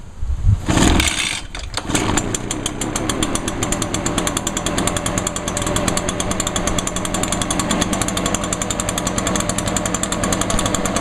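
A backpack leaf blower's small two-stroke engine sputters to life after choke and priming, then idles steadily with a loud, rapid, buzzing rattle that holds constant throughout.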